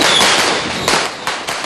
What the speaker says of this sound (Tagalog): Tila di maubusan ng mga paputok ang mga taga-Tondo dahil maaga pa'y wala nang tigil ang putukan